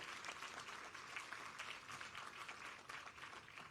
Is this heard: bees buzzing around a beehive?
no